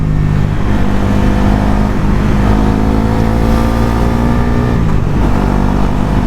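A Bajaj NS400 Z motorcycle accelerates hard in fourth gear on a city road, its engine roaring loud and continuous with a rising, droning tone and heavy wind rush.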